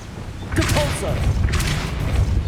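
A Depulso spell cast in the game Hogwarts Legacy gives two loud, airy magical whooshes about a second apart, each a broad bright burst, over a constant low hum and faint game sounds.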